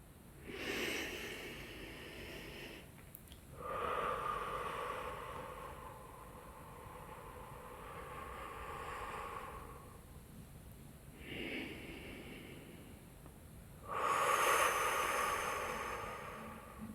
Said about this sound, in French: J'inspire par le nez et j'expire par la bouche, à mon allure. 3 grandes respirations.